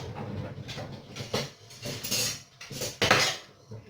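Onion tumbles into olive oil in a pan, with close, intermittent clatter of utensils against cookware, a series of scraping and clinking bursts.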